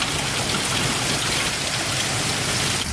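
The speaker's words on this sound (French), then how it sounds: "Oh my god, il grêle!" Dense, loud hail pelting down outdoors in Québec, a steady broadband clatter and hiss of countless hailstones striking surfaces without pause.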